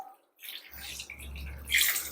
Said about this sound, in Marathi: या भाताची कुकिंग प्रोसेस थांबावी म्हणून मी याच्यामध्ये थंड पाणी टाकून घेतेय